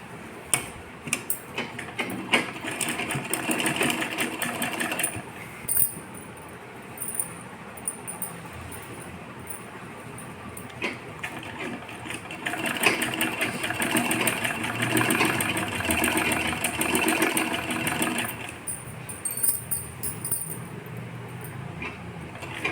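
A domestic sewing machine stitches the seams of a long skirt with a steady mechanical whir and ticking. It runs in bursts and pauses close by, with no talk.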